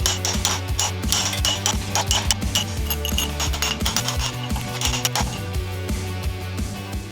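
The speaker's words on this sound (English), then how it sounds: "it's time to bring out the little chisel and hammer" A little chisel is tapped with a hammer to carve a small sculpture, giving a steady run of quick scraping knocks and clicks, close up and fairly loud.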